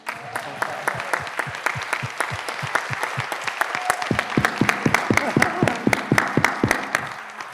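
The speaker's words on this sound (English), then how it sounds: "So we'll give a final active applause of this meeting for everybody." Audience applause closes a childhood obesity summit meeting, starting sparse with a few distinct claps and swelling into steady, fairly close clapping over several seconds with a faint voice underneath.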